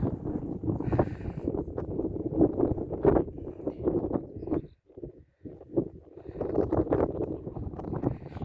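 Gusty wind buffets the microphone with heavy low rumbling that surges and drops, briefly easing before picking up again.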